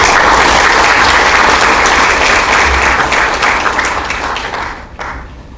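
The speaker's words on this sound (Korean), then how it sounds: "세 분을 뜨겁게 박수로 맞이했습니다." Loud, warm applause from an academic conference audience welcoming three guests, a dense, sustained roar of many hands that gradually thins and fades toward the end.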